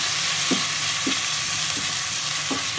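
Onions frying in a pan for chicken korma give a steady, close sizzle, with a few soft stirring scrapes recurring about every half second.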